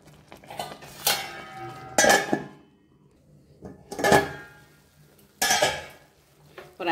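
Metal pan and lid clatter over oats upma on the stove: several sharp clanks and scrapes in separate bursts, each ringing briefly before fading, with quiet gaps between them.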